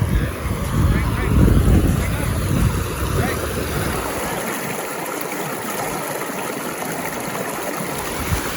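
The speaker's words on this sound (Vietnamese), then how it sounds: "Suối nước chảy róc rách" Stream water babbles and rushes steadily beside an offroad trail, a broad close wash of flowing water that stays loud throughout the stretch.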